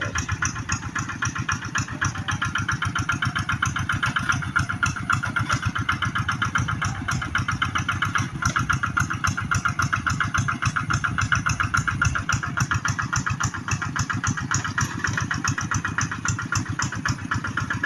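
A tractor's diesel engine chugs steadily with a rapid, even putter while plowing a rice field, running continuously at moderate volume without any talking.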